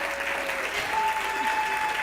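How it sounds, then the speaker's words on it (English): An audience breaks into a round of applause for a presenter introduced at a social media conference session, a steady dense wash of clapping with no voices over it. "Big round of applause for Gina Mote."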